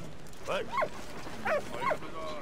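A dog in the video game Valiant Hearts makes a few short whimpering yips and small vocal sounds in two pairs, fairly faint over a quiet background.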